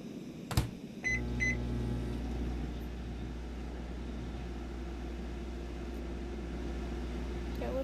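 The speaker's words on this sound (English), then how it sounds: "What happens if we microwave the blowtorch?" Microwave oven in the Cooking Simulator VR video game switching on with a few short beeps and a clunk, then settling into a steady low electric hum that runs alone to the end.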